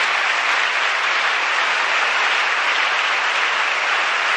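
A dense, even burst of applause greets a governor's entrance at a ceremony, a loud, steady wash of clapping that holds without a break for a few seconds.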